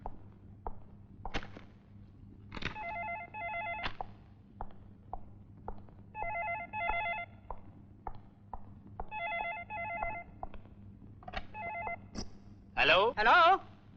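An old-style telephone rings on an international call placed from India, with repeated bursts of ringing over a steady low hum and a short voice near the end.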